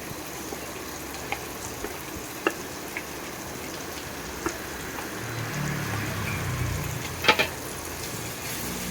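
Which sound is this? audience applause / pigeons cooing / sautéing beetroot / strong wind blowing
sautéing beetroot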